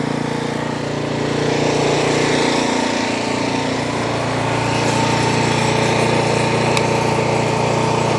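A Troy Bilt snow blower with a surging problem runs close by, its small engine giving a loud, continuous droning hum with a slight rise and fall in pitch.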